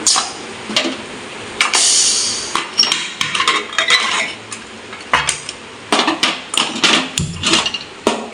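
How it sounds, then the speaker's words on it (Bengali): A pot lid lifted and water poured in while dried fish cooks for a home-style dish, heard as clattering metal knocks and scrapes over a steady hissing rush, with sharp clinks scattered throughout. "ঢাকনাটা খুলে জল দিলাম"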